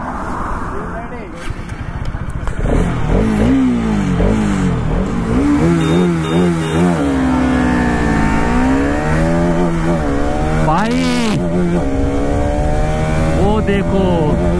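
Two Pulsar RS200 motorcycles, BS6 and BS3 versions, launch in a race, engines revving loudly and climbing in pitch through repeated gear shifts as voices talk over them.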